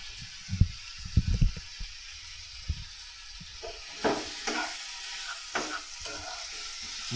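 Ginger and chili dropped into hot oil for tempering sizzle with a low hiss, punctuated by several close spoon knocks and scraping stirs in the pan.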